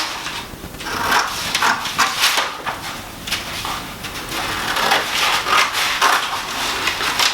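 Scissors cut out a paper pattern piece for a Minnie Mouse costume, making a steady run of close, crisp snips and rustles with no talking.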